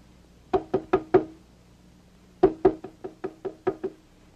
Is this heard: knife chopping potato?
no